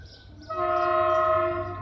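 A loud freight train horn blares in a single sustained chord, close by, over a low rumble of the moving train, a Turkish State Railways ore train in Niğde, Turkey.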